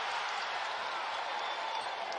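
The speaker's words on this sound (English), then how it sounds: "And the crowd ignites here in Orlando." Crowd cheering and roaring in an Orlando arena during a college basketball game, UCF against Houston, a dense steady wash of noise that stays loud and unbroken from start to finish.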